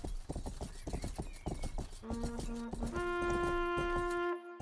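A police horse in the Rustler video game trots with a rapid run of clip-clop hoofbeats, then lets out a loud whinny that rings out near and clear before cutting off.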